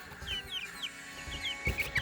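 Baby chicks peep and cluck close by in a series of short, high chirps spread at an irregular rhythm, with a few quick louder cheeps bunched near the end and faint handling noise underneath.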